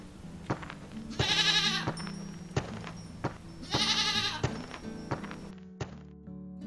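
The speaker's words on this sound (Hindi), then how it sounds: "हरिया अपनी भेड़ों को लेकर घर पहुँचता है।" Sheep bleating at a farm home as a shepherd returns with his flock, two loud drawn-out bleats over a background of soft knocks and thuds.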